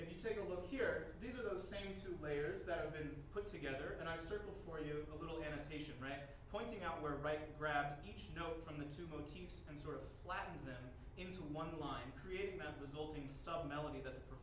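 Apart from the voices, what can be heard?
No distinct noise like a dog, phone or traffic.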